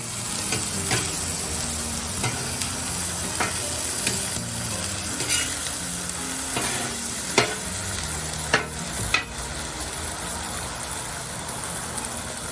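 Oktoberfest beer burgers sizzling on a griddle with barbecue sauce, a steady hiss broken by scraping and clinking of a spatula being flipped, close and continuous, no talk.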